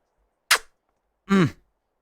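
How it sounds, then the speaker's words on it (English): Item unlock effect in the VR game In Death: Unchained: two short, bright bursts about a second apart, the second a fuller chiming sweep with a falling tone, alone and clear. "The unlock noise on this game."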